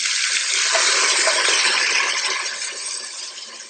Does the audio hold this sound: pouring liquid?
yes